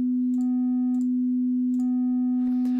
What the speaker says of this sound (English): If I flick the digital switch here, this is a pure sine wave, giving us only a single harmonic there.